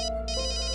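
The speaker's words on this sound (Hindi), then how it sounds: "वो फोन आ रहा है।" A phone ringtone plays as a short electronic melody of bright, repeating tones, clear and close, with a brief pause partway through.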